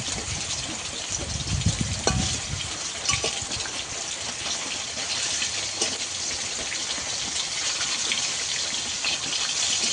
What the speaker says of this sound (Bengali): মাছগুলোকে আমি অল্প অল্প করে ভাজবো।